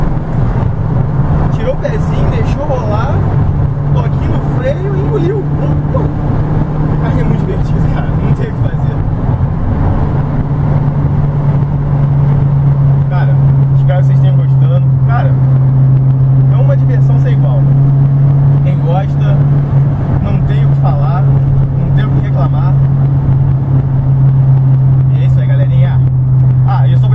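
A VW Golf GTI accelerates hard on a highway, its exhaust giving a steady, loud engine drone that rises slightly in pitch. Road and wind noise run throughout.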